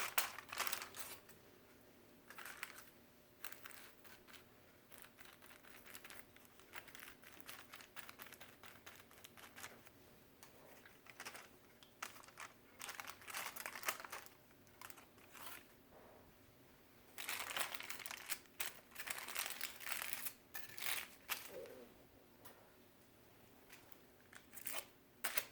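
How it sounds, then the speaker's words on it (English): Aluminum foil folded and crinkled around a woman's hair during a slice-and-weave coloring session, with irregular close crackles and rustles coming in bursts, busiest near the end. "When you hold that foil, just kind of bend it around the round of her head there"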